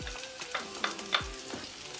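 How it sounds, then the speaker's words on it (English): Garlic sizzling and frying in hot oil for a naga chilli pickle, a steady crackling hiss with a few sharp pops and stirring knocks, close and fairly loud. "First of all, I am going to put the garlic in."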